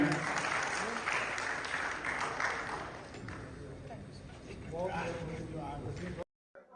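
Audience applause at a sports and culture club function held during Hola Mohalla, a broad crowd clapping that fades after a few seconds as voices carry on beneath and around it.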